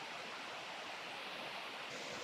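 Creek water flows over rocks in a steady, broad hiss, a constant wash with no voices and no breaks.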